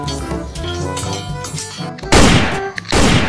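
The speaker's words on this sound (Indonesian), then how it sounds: "Wow, di sini ada tembakan." Gunfire sound effect with bursts of broadband impact noise in the second half, played loud over music in a toy car play setting.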